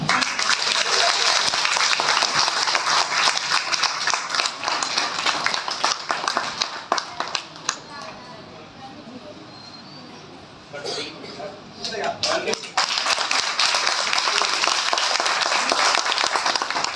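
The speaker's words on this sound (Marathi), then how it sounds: "सर्वांनी जोरात टाळ्या वाजवा." An audience at a Buddhist Ashwin Purnima and Dhammachakra Pravartan Day gathering claps loudly and steadily, dipping to scattered claps midway before swelling again into full, close applause.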